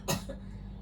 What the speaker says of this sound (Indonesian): Ini coba tolong batuk dalam hitungan ke satu 2 3.